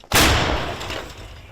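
A single heavy Soviet-era howitzer blast booms sharply and close, followed by a long rumbling echo that slowly fades.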